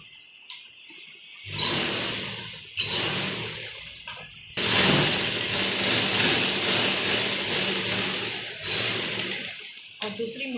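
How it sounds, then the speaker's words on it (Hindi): A sewing machine runs a fine edge seam joining the cuts on a women's narrow palazzo trouser hem, starting and stopping in several bursts of steady whirring stitching with brief pauses between runs. "उसके बाद जो ये कट हैं दोनों तरफ इनको हम मिलाते हुए यहाँ एक बारीक सिलाई लगाएंगे किनारे पर"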